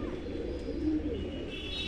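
Inside a pigeon loft, a single pigeon gives a brief low coo, soft and near, against steady room hum.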